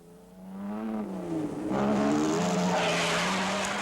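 A Triumph rally car spinning out on a mountain rally road, tires squealing and skidding in a long rising screech over engine roar, loud and close, swelling toward the end.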